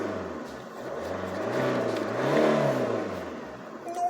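A BMW engine, already warmed up, revs up and back down in one smooth rise and fall, heard up close at moderate loudness before it settles toward idle, with no talking.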